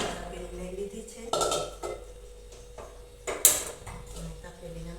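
A metal cooking pot is set down on a gas stove. A few clattering metallic knocks and clinks ring out close by against a quiet background, with one sharper clank near the end.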